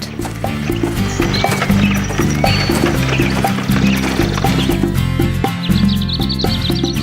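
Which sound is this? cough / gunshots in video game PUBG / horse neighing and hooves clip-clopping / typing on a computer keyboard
horse neighing and hooves clip-clopping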